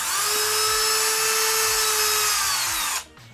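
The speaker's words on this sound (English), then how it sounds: "It's a Dremel." A Dremel rotary tool runs at a steady, piercing high-pitched whine, loud and close, then cuts off near the end.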